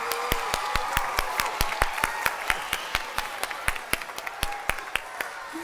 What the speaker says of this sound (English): Let's give a huge round of applause for Jeffrey!